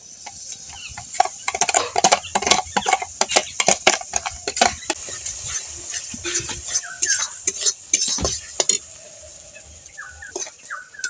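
Raw mango jelly is stirred in a hot wok. A spoon scrapes and clicks against the metal in quick, uneven strokes, sharp and close, with quieter moments between bursts.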